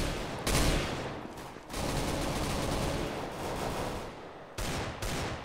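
Rapid automatic gunfire from the shooter game Counter-Strike: Global Offensive, a dense, continuous stream of shots with brief gaps, fairly steady and alone with no talking.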